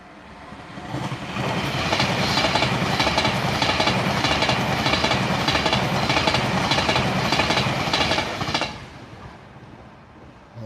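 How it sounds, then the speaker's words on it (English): A Pendolino tilting train in a train simulator game rolls past close by, a loud steady rumble with rhythmic wheel clatter that swells in after a second, holds for about seven seconds, then cuts away. "I was just waiting for this Pendolino to go past where I can talk"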